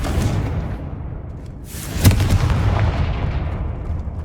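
Confringo blasting spell going off in Hogwarts Legacy: a sharp, loud explosive crack rises out of a continuous low rumbling battle din, then a dense roar of debris and noise carries on steadily afterward.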